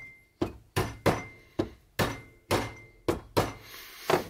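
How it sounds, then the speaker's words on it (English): A mallet taps a wooden spline into a glued box-corner joint, about ten sharp, evenly spaced knocks ringing close and alone. "This one's a little more finicky, so we're going to help it get into place with this mallet."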